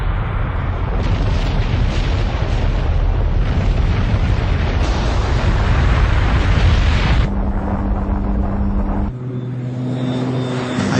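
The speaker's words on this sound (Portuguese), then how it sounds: "Uma bomba de hidrogênio, a arma mais letal que existe." A hydrogen bomb test explosion gives a loud, sustained roaring rumble with heavy low-end turbulence, cutting abruptly to a thinner humming tone near the end.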